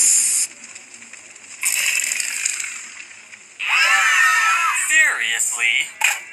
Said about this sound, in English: Are you all going to scream like that every time I start a new can?